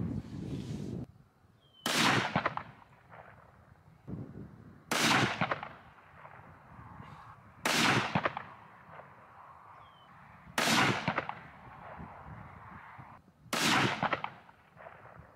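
Remington 700 SPS Tactical rifle fired outdoors on a windy range: about five loud, sharp shots a few seconds apart, each cracking out and trailing off in a rolling echo, with quiet wind between them.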